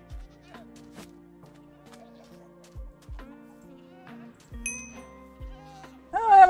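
A goat in the Minecraft video game bleats in a wavering cry near the end, following a series of soft in-game clicks, thuds and tones.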